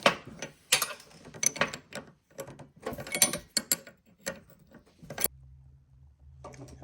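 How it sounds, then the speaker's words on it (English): A ratchet wrench works a banjo bolt loose on the brake of a TrailMaster MID XRS go-kart, giving bursts of rapid clicking and metallic mechanism noise up close, then a low steady hum near the end. "Take this banjo bolt off here."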